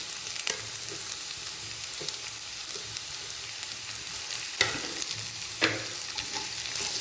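Onions and chillies frying and being stirred in a pan for a Kerala-style duck roast: a steady close sizzle with scraping spoon strokes and a few sharper clanks, no talking.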